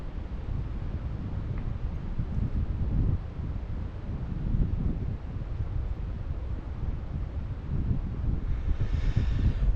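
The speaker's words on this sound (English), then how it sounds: "This wind's kicking up a bit." Steady wind gusts roar and rustle across the microphone beside the Little Gunpowder River in Maryland while trout fishing, a continuous broadband rush swelling and easing over the whole stretch with no speech.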